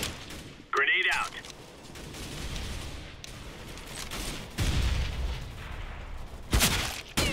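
A grenade thrown and exploding during a competitive CS:GO match on the Cruise map, with loud gunfire bursts and booms scattered through the clip, while people talk quietly underneath.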